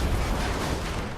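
Explosions in the World War II video game The Saboteur: a continuous, heavy rumbling blast that fills the whole moment without a break, with no talking over it.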